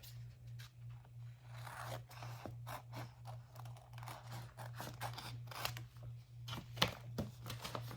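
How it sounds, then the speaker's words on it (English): Scissors snip around a printed UV/DTF decal image meant for a 40oz tumbler, giving close, repeated crisp cuts in an uneven rhythm over a steady low hum. "Cut out your image."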